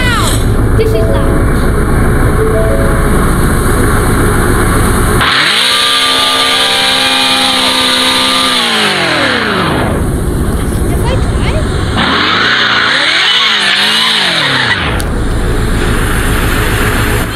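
Ford Mustang GT500 engine roaring loudly from inside the car, with revs climbing and falling in two long surges over a steady background drone.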